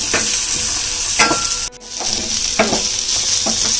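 Garlic and groundnuts fry in a hot pan for groundnut chutney, a steady close sizzle broken by repeated scraping stirs and one brief near-silent pause.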